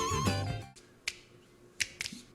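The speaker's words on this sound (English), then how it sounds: "you gotta love how the finger snaps start off and then end the track" Finger snaps from a track, three crisp, isolated snaps spaced under a second apart after a brief musical phrase.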